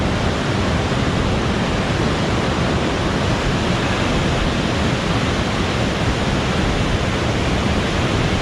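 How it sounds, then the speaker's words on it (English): A waterfall on a river in Norway roars as a steady, dense, loud rush of broadband water noise, continuous and unbroken with no voices. "Not sure if you can hear me because of the sound of this waterfall."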